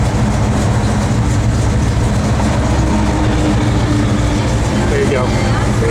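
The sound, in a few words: 1970 Chevrolet Chevelle SS big block engine running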